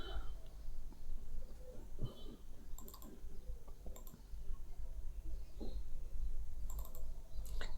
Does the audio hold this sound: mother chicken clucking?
no